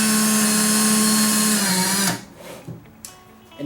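A power drill whines steadily and loudly while smoothing a hole in a plastic pen, then cuts off abruptly about two seconds in, leaving faint handling clicks.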